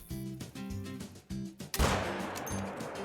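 A single loud rifle shot cracks out in a hunting video game, fired at a mule deer. It bursts sharply over a steady rhythmic music bed and trails off into a long, rolling echo.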